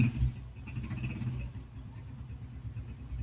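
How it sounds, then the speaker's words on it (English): A motorcycle passes in the background, heard as a low, rumbling engine drone that swells and fades, fairly faint and distant. "Sounds like we got ourselves a motorcycle in the background."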